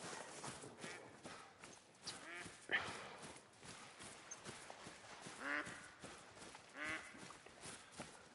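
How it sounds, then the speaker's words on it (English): A duck in theHunter: Call of the Wild gives repeated raspy quacks, faint and at a distance, over soft footsteps and rustling. "That duck is possessed."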